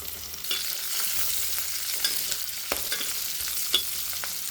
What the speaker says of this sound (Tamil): வெங்காயம், பச்சை மிளகா போட்டுக்கலாம். நல்லா வதக்கிடலாம்.